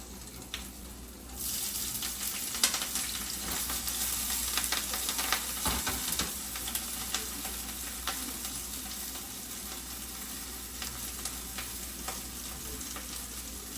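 Onions hit a pan of oil on low heat for chicken pasta, a soft hiss that rises into a steady, moderate sizzle with faint stirring scrapes throughout.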